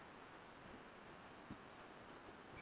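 Writing on a board during a classroom biology lecture gives faint, scratchy strokes in short irregular bursts, quiet and close against a low background hiss, with no talk heard.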